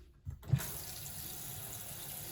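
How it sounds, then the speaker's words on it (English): Water from a sink sprayer in a bathroom used for bathing an adult, switching on with a short thump and then running as a steady, soft hiss. "We have a nice sink with a sprayer."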